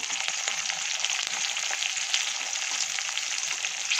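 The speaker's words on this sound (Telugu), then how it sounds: "కరివేపాకు అన్నీ ఒక్కొక్కటిగా వేసుకోవాలి. కొంచెం వేగనివ్వాలి దాన్ని" Green chillies, dried red chillies, onions and curry leaves fry in oil for aloo bonda, a close, steady crackling sizzle with tiny pops throughout.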